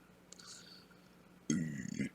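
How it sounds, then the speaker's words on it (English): A single burp erupts loudly and close up, lasting about half a second after a quieter stretch of soft breathy sounds, with no other speech. "Ugh, my gosh, I burped"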